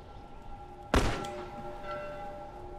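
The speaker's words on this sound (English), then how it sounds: "Now I hear church bells." A single heavy church bell strike from the video game The Last of Us, a loud clang followed by a long ringing decay that hums on for a couple of seconds with no talk.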